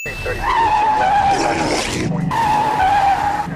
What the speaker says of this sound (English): Using the same stock tire screech sound twice within 10 seconds.